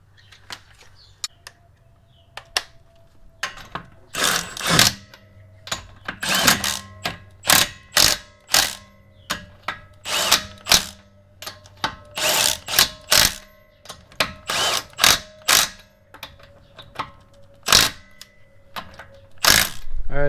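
A power tool rattles in repeated short bursts while a wheel is put back on a Subaru WRX race car. The bursts are loud and close, with brief pauses between them and a faint mechanical hum underneath.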